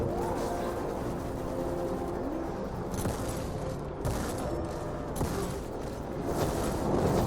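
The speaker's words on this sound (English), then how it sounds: "Grenade in there." A grenade explosion from the Destiny game, a burst of booms and gunfire-like bangs over continuous loud game noise, with sharp hits around the middle and end.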